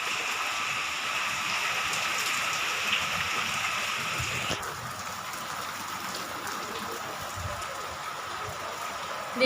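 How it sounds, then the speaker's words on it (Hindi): Heavy rain pours down steadily in a constant broadband hiss of drops hitting surfaces, loud and unbroken throughout, easing slightly partway through with no voices present. "देखिए बारिश कितनी तेज़ हो रही है।"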